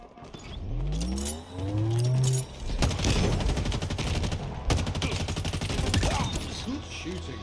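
Halo Infinite multiplayer gunfire crackles in rapid bursts and sharp single shots, layered over vehicle rumble and announcer-style voice lines, dense and loud throughout.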